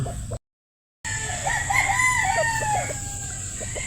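A broad stag gamecock crows loudly and close by, its cock-a-doodle-doo rising and falling after a brief dropout at the start, ending in a few short clucks with no speech.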